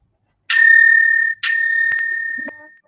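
A timekeeper's bell at a debate competition rings twice in quick succession, each bright ding ringing out long and loud in a quiet room, followed by a few faint knocks.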